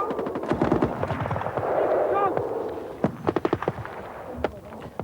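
Machine guns lay down covering fire in a military exercise while troops go in, rapid bursts of sharp cracks that are close and loud, with someone talking over the early shots.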